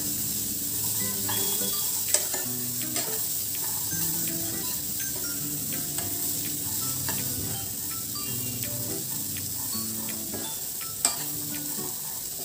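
Chickpeas sauté with spices including chaat masala in a pan, a soft continuous sizzle and crackle with the rustle of stirring and two sharp utensil clicks against the pan.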